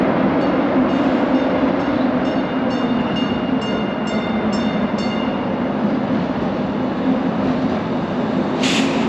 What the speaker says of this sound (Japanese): バッファローはチンチン電車が走ってるみたいです。